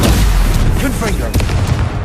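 Confringo blasting spell in Hogwarts Legacy going off as a loud booming burst among rapid combat spell effects, with a voice shouting over it.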